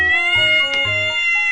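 A cat meows twice, close and clear, in short nasal calls with a brief pause between them, in a quiet indoor setting.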